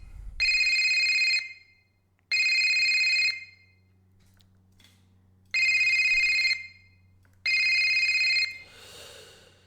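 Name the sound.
fun phone ringtone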